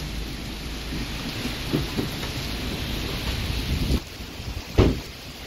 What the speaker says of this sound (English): Heavy rainfall and thunder hit Chicago like a flood in just minutes.